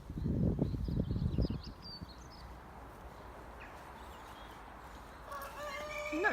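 Chickens and cockerels on an allotment outdoors, a brief burst of low clucking at first, then faint calls over quiet outdoor background.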